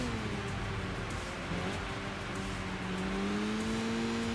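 A high-performance racing car engine in Enthusia Professional Racing, a steady sustained drone whose pitch climbs gradually as it revs, fairly quiet and continuous with no voices over it.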